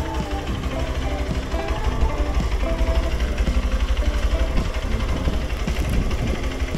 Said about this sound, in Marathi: बाईक थोडी आपण कोल्ड स्टार्ट करू